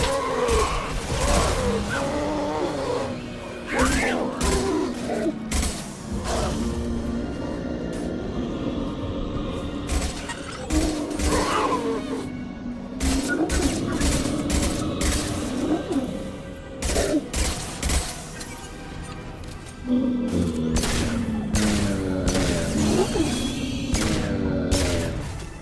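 Heavy pistol gunfire in the video game Mass Effect 2, sharp loud shots fired in bursts and singles over continuous combat noise and game music, with no talking.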